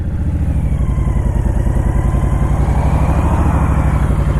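A Honda Fury V-twin motorcycle engine runs up close and loud, with a steady low pulsing throb and mechanical clatter, no talk over it.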